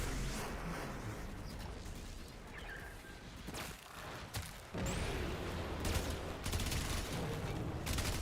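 Dense, continuous gunfire and rapid shooting from the video game Warframe, with bursts layered over one another and a few whooshing effects throughout, loud and sustained with no break.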